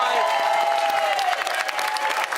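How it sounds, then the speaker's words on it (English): A studio audience at a Big Brother UK spin-off show claps in steady, dense applause that fills the room, loud and continuous with faint cheering mixed in. "So give me a round of applause."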